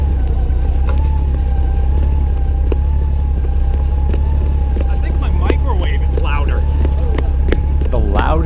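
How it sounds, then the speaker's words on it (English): A steady high whine from the fuel injectors of a 2008 Honda Goldwing touring motorcycle holds over a low engine hum, with a few faint clicks and brief chirps toward the end. "The loudest thing you're hearing is the fuel injectors going."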